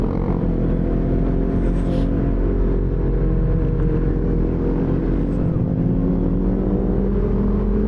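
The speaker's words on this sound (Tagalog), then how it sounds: "Grabe engine brake ko, first gear." A CFMOTO NK400 motorcycle decelerates on engine braking in first gear, a loud, steady low rumble with wind noise from a rider's point of view.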